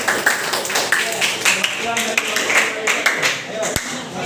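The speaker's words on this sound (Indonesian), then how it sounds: "Oke, oke, tepuk tangan." A classroom group claps in applause, with loose overlapping hand claps in irregular bursts mixed with students' chatter and voices throughout.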